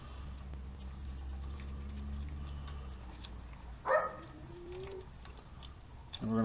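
A dog barks sharply once, then again briefly near the end, over a steady low hum of background noise, during brake hose work on a 2004 Ford Expedition.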